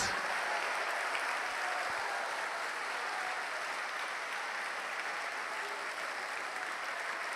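A large church congregation claps continuously for several seconds, the applause dense and even, heard from within the room.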